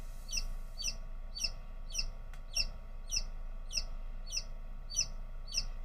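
A newly hatched chick peeps inside a Nurture Right 360 incubator: a steady series of about a dozen sharp, high, close peeps, evenly spaced, over a faint mechanical hum.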